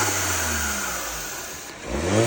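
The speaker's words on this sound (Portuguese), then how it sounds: "Agora eu vou deixar vocês ouvirem o famoso flutter." A turbocharged Peugeot car engine revs up close, with a steady drone that rises and falls and a turbo flutter as the throttle lifts, with no voices.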